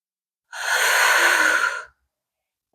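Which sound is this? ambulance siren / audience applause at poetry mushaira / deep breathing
deep breathing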